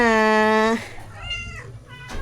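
A cat gives one loud, clear, drawn-out meow up close, followed by softer shorter mews and a person talking nearby.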